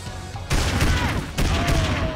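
Loud, dense bursts of gunfire from the Family Guy Back to the Multiverse game, two sustained volleys close up separated by a short gap, with no talk over them.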